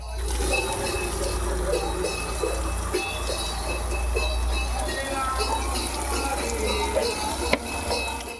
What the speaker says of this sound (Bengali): সবজিগুলো আমি এবার বাইরে নিয়ে গিয়ে ধুয়ে নেব